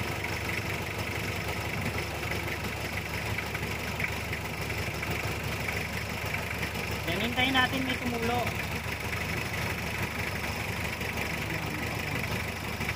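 A steady car engine idles throughout with a low, even hum, while someone speaks briefly over it.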